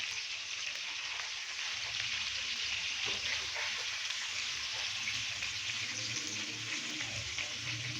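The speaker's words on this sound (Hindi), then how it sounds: "चिकन की दूसरी साइड को भी मैंने 2 से 3 मिनट के लिए फ्राई कर लिया है।" Chicken pieces frying in oil in a kadhai, a continuous bright sizzle and crackle that stays even and close throughout, with no voices.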